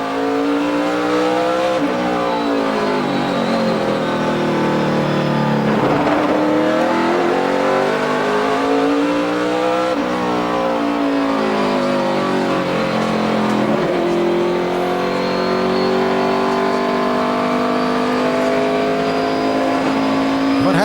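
NASCAR Nationwide Series stock car at the 2012 Sargento 200, engine winding up and dropping through gears as it brakes into a corner and accelerates out, loud and continuous with repeated rev sweeps and brief tire squeal.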